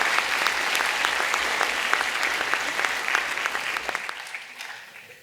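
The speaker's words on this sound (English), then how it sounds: "Before I steal any more of Emma's applause" A room full of people at a political rally claps steadily, then the applause fades out toward the end.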